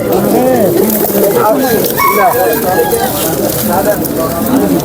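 A crowd of racer pigeons at the Nazirpur village pigeon market coos in a dense, continuous chorus, loud and close, while buyers and sellers talk and bargain throughout.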